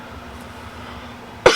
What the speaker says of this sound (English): Oh, sorry about the coughing.